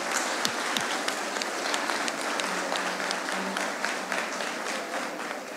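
A concert audience in Gazcue breaks into steady, even applause for a singer, with many hands clapping at a constant level throughout and no speech.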